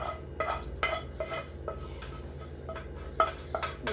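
Baked ziti under way as a sauce mix is stirred into drained ziti pasta in a pot, giving a series of clattering clinks and scrapes of a utensil against metal, close and moderately loud, with no one talking.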